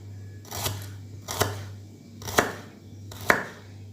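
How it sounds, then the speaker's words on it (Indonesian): Four slow, evenly spaced knife chops strike a cutting board while spices are cut for Chinese pumpkin soup, each a crisp, close thud over a low steady hum. "Kita potong bumbunya."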